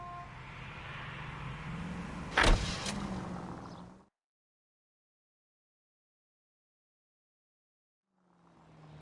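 A car in the video game L.A. Noire: a steady engine hum and road rumble with a brief louder thump midway, cutting off to silence before the engine noise returns faintly.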